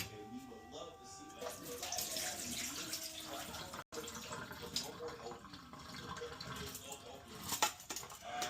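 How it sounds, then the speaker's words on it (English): Rice is rinsed under running tap water, a continuous splashing flow with shifting swishes, and a voice talks over it. "We gonna get this rice rinsed off."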